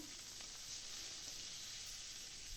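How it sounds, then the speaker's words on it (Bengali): A steady, quiet sizzle of tomatoes and onions, with salt and turmeric, frying in a pan, continuous hiss without any talking. "টমেটো আর পেঁয়াজ ভালো করে আমি ভেজে নেব"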